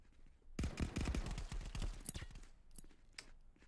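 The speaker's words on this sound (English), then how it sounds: "Oh, there's the gunshots." Rapid bursts of gunfire ring out in the VR shooter game Contractors VR, a clustered fusillade of sharp shots that starts abruptly after a short silence, then thins into scattered reports.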